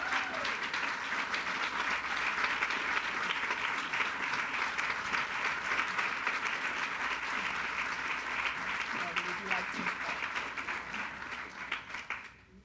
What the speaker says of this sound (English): I would like you guys to come up and applaud Miss Janice Strong